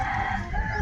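A rooster crows nearby in a brief, loud, strained burst, cut off partway through the call.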